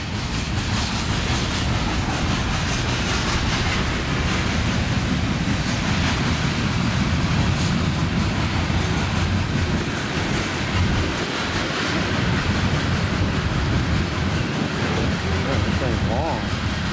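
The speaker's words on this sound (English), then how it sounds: "those are some good looking hoppers there" A long Union Pacific freight train of hopper cars rolls past with steady rumble and wheel clatter throughout, loud and close, with brief voices underneath.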